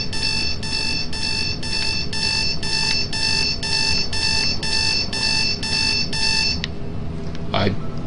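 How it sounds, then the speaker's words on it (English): A repeating electronic alarm in Dead Space 2 beeps in a steady rhythmic pattern for several seconds, loud over low game ambience, then cuts off abruptly before a brief whoosh. "I did not know that the alarm could go off."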